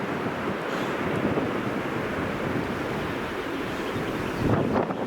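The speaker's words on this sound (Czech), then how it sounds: "Někde pode mnou slyším vodopád" A waterfall somewhere below a mountain viewpoint in Norway gives a steady broadband rush, loud and continuous, mixed with wind buffeting the microphone.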